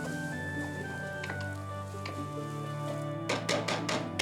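Garlic is added to onions in bacon fat for tomato bacon fettuccine, bringing a soft sizzle under a steady kitchen hum, then a burst of louder rapid crackles and stirring scrapes near the end.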